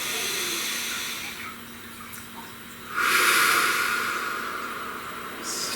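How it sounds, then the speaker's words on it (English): A slow, deep breath drawn close to the microphone: an airy rush that swells suddenly, holds for a couple of seconds, then gradually fades over a faint background hiss, with no speech. "Please take a nice deep breath."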